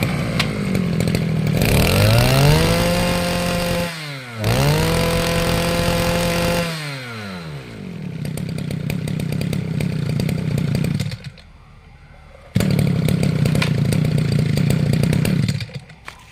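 A Gobin NB 2002 gasoline grass trimmer engine roars nearby, revving up and down in two surges, then settling into a steady loud idle that cuts out briefly and restarts.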